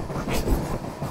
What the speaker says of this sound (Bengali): একটু স্পিডটা বাড়ালো মনে হলো ট্রেনটা